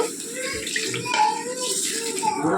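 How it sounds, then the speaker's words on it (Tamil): Tamarind water pours into a cooking pot in a home kitchen, making a continuous close gurgling stream that runs steadily throughout. "புளி ஊற்றிக்கலாம்."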